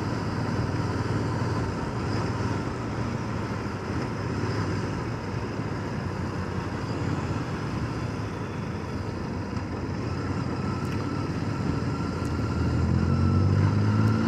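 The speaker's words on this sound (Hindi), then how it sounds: "पोलो की विद कस्टम एग्जॉस्ट, पोलो से रेस लगाएंगे आज" A Volkswagen Polo with a custom exhaust drives along city roads, giving a continuous low engine drone mixed with road and wind noise, rising slightly toward the end.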